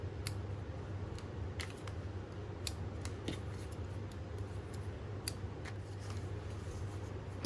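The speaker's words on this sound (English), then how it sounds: "I'll trim all the extra threads off these." Scissors snip loose threads off handmade junk journal cards with stamped images, a run of small, sharp, irregular clicks over a steady low hum, close and quiet with no talking.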